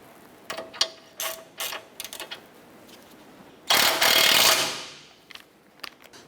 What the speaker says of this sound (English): Let's get that nut put on there. I'm going to go ahead and get that snug down.